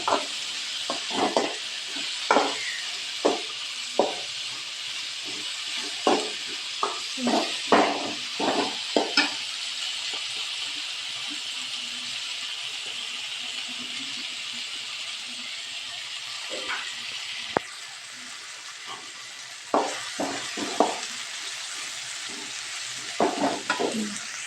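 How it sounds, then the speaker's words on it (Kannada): Beans frying in oil in a pan for a village-style beans palya, a steady bright sizzle and hiss running throughout, punctuated by repeated sharp scrapes and clacks of a spoon stirring, briefly quieter midway. "ಬೀನ್ಸ್ ಹಾಕಿದ್ಮೇಲೆ ಅದು ಎಣ್ಣೆಯಲ್ಲಿ ಫ್ರೈ ಆಗಬೇಕು ಬೀನ್ಸು"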